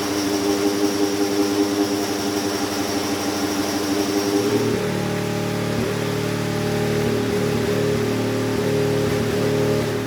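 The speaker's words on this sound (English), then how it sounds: "We were hearing engines being warmed, amazing sound." Acura IMSA GTP race car engines warm up inside the Wayne Taylor Racing shop in Indianapolis, a loud steady idle and drone that shifts to a deeper, rougher rumble partway through, with no voices.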